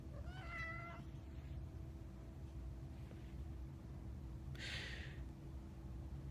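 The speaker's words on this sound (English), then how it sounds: "Hey, Luna, my cat's walking behind me right now." A house cat gives one clear meow near the start and a short sharp cry a few seconds later, both close but soft over a low steady hum.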